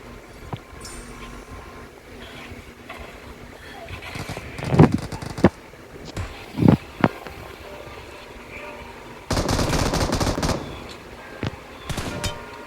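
Gunfire in a roleplay mission video game comes as scattered sharp shots and short bursts, one sustained stretch of rapid fire, set against a quiet game background.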